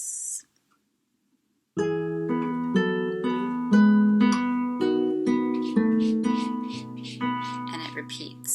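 Classical guitar plays Tarrega's Lagrima after a brief silence, with plucked melody notes ringing over a sustained bass in a slow, even rhythm, close and clear with no talk.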